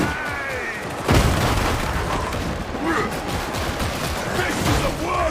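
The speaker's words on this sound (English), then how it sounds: "A grenade!" A grenade detonates in the co-op shooter Warhammer 40,000: Darktide, a sharp boom around the one-second mark amid ongoing gunfire and combat noise, with a player's voice talking over the chaos.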